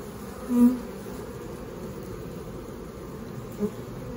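Honey bees buzz steadily around an opened hive during a September inspection, a low continuous hum with two brief louder swells as bees pass near.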